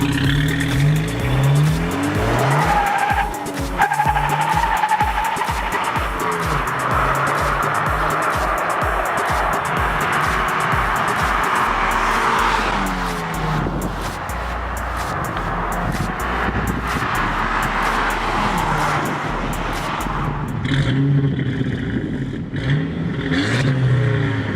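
A VW Mk5 Jetta 2.0T TSI with a Spulen dogbone mount insert accelerates hard under boost, the engine revving up in a loud, rising drone through several gear changes, heard from inside the car with wind rush.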